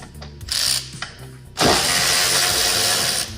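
A ratchet loosens the 13mm strut tower bolts on an MK7 GTI in a few short clicking bursts, followed by a longer, continuous rapid ratcheting run, close and fairly loud with no talk.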